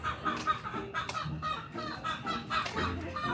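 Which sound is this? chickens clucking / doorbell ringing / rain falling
chickens clucking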